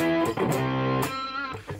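An electric guitar plays a few sustained power chords made of root, fifth and octave through a distortion effect, with a buzzing, harmonically rich tone that rings out between chord changes.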